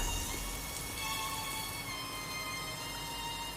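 Steady rain from the animated show RWBY, a dense, even hiss of falling drops that holds at a constant level throughout, with no voices over it.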